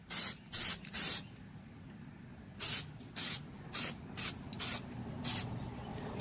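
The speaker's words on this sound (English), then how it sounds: "Shake that can nice and good. Let that stuff all. And then let's just start. Spray a little bit out here." Several short bursts from a spray can hiss close by, uneven in length and rhythm, with quiet pauses between them.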